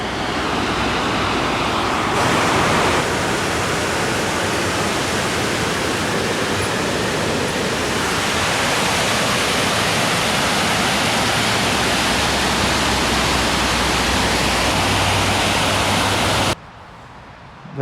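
A rebuilt waterfall at Virginia Water park roars continuously, a broad, steady rush of falling water heard up close for most of the span before cutting off abruptly near the end.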